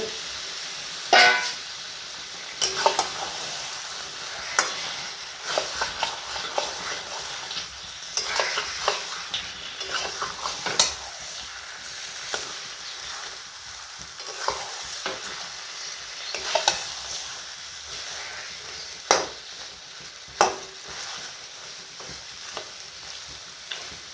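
Marinated chicken is stirred into fried masala for chicken do-pyaza. A steady hiss of frying runs under frequent close scrapes and clanks of a spatula against the pan, with a few louder knocks scattered throughout.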